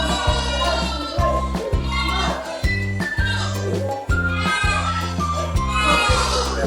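Goats and sheep at a livestock market bleat repeatedly in overlapping calls, close and loud, over a steady rhythmic low thumping in the background.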